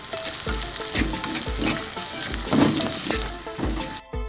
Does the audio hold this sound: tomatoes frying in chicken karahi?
yes